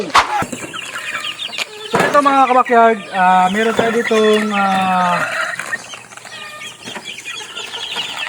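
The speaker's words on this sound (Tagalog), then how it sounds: "magpakain tayo ng aking mga alagang manok" Chickens, including a Boston Roundhead cross, cluck and call repeatedly close by in a backyard, with someone talking over them throughout.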